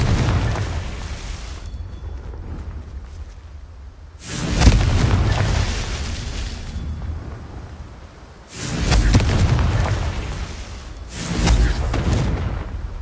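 A Confringo explosion spell cast in a Harry Potter video game: three booming blasts with rumbling tails, spaced a few seconds apart over a quieter background.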